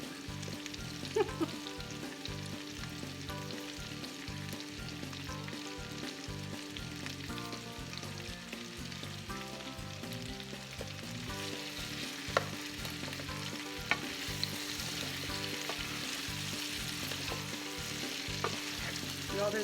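Red potatoes and onions fry quietly in a pan. A soft continuous sizzle is broken by regular scraping stirs and a few light clinks, heard close with no speech.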